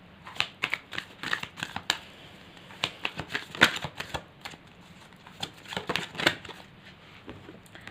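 Tarot cards shuffled by hand in irregular crisp bursts of riffling and flicking, close and fairly quiet, with no speech.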